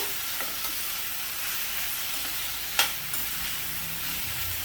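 Mushrooms stir-fried in a pan over a medium-high flame, a soft, steady frying hiss with a single sharp clink of a utensil partway through.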